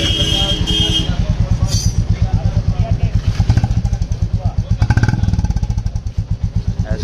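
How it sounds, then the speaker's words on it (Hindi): A Royal Enfield Classic 350 Reborn motorcycle runs with an aftermarket exhaust, giving a loud, close, steady thumping idle with a deep rhythmic beat, partly under speech. "चलो अभी स्टार्ट करके सुनाते हैं आप लोग को एग्जॉस्ट कंप्लीट प्रॉपर जो इंदौरी लगा है क्लासिक का।"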